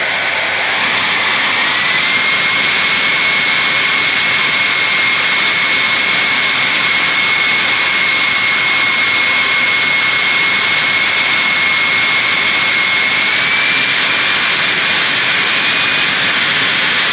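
RC scale model jet, a Fiat G-91 in Tiger-Meet markings, with its turbine running loud and steady, a continuous close roar and high whine that climbs slightly in pitch early on, then holds.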